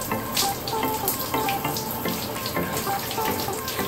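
A cold shower runs steadily, water spraying and splashing in a continuous broadband hiss with slight fluctuations throughout, close and fairly loud with no talk.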